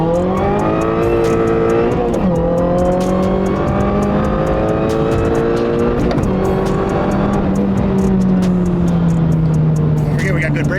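A supercharged Toyota GR86 engine revs hard in second gear and climbs steadily in pitch, loud and close, with a brief dip partway through as the acceleration continues.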